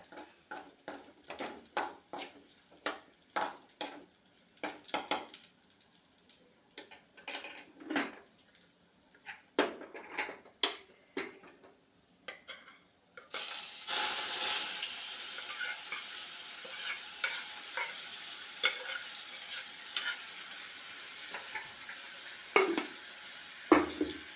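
Cooked banana stem tipped into a pan for thoran and stirred: a run of sharp spoon scrapes and clinks against the pan, then a loud, steady sizzle with continued stirring strokes on top.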